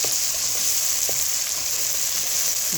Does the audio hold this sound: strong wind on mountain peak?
no